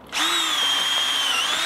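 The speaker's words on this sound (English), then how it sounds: "This is a specialised drill bit for mushroom log cultivation. This is a 12mm wide, 8mm deep, and it has a stop on it." Power drill fitted with a specialised 12 mm mushroom-cultivation bit with a depth stop, boring into a log; a loud, steady high-pitched whine starts abruptly and holds close up for the whole stretch.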